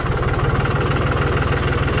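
A 45 hp tractor engine idles close by after its hydraulics are raised, with a steady, rapid low chugging rhythm, loud and continuous.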